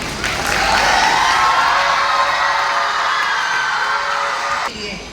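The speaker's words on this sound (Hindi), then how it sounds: "एक बार उनके लिए जोरदार तालियां हो जाए।" Loud crowd applause with cheering and whoops, sustained for several seconds and cutting off near the end.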